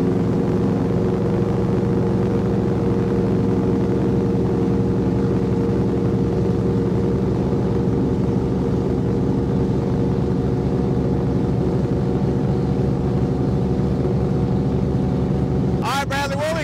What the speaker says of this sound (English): we're going to try and run this boat today